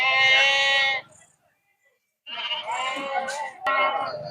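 Sheep and goats bleat at the Kerur livestock market, with loud, close, wavering cries in bursts separated by a brief pause and a faint voice in the background.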